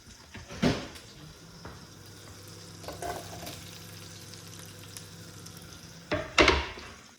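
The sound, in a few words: butter melting and onions frying in a pan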